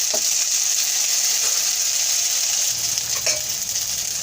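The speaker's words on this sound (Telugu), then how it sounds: "అల్లం వెల్లుల్లి పేస్ట్ ఉంది కదా, అది కూడా వేసేసి పచ్చివాసన పోయే వరకు వేయించుకుందాం" Ginger garlic paste fries with onions and green chillies in a pan, giving a steady, close, even sizzle with a few faint spatters and no talking.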